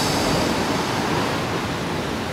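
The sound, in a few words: ocean waves at beach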